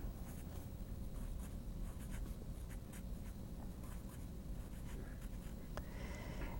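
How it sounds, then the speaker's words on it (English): A pencil scratches steadily across paper while working a prealgebra problem, a continuous close scratching with small strokes throughout, under a low constant background hum. "So we're going to write sometimes in this blank."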